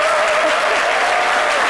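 Loud, close applause from a studio audience on a French midday talk show for Raïssa Diaby, a dense continuous burst of clapping with faint whoops over it.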